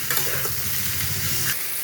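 Young jackfruit frying in a pan, a dense continuous sizzle with spatula stirring scrapes throughout, loud and close, no voices.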